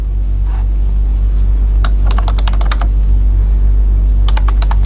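Rapid bursts of computer keyboard keystrokes as C code is typed, in two clusters of quick clicks over a steady low hum, with no talking.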